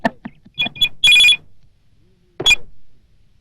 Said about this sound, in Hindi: बेटी मीना, संजय का फोन है।